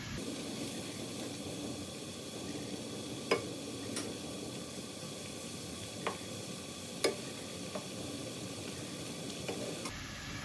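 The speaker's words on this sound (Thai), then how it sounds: "เราก็ใส่หัวกุ้งลงไปด้วยนะคะ เพิ่มรสชาติค่ะ" Shrimp heads stir-frying in green curry in a pan for spaghetti, a low continuous sizzle broken by a few sharp utensil clicks, no voices.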